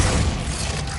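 A Glacius freezing spell is cast in Hogwarts Legacy, giving a dense, loud, steady burst of icy noise with a heavy low rumble that carries through the whole second, with no talk over it.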